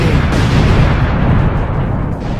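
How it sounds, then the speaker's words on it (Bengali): Sticky bombs detonate in a superhero video game, a loud, dense rumbling blast that fills the moment with heavy low booms and no talk. "এবার স্টিকি বমগুলো ব্লাস্ট করে"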